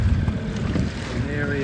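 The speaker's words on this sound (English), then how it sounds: "And I'm just motoring out in my dinghy to greet him." A small dinghy motors out across open water, heard as a low outboard rumble mixed with heavy wind buffeting and sloshing waves, close and fairly loud through the brief stretch.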